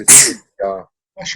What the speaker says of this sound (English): bless you, whoever was sneezing.